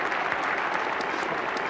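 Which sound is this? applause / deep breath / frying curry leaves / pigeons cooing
applause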